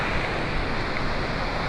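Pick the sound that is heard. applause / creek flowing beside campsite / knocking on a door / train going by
creek flowing beside campsite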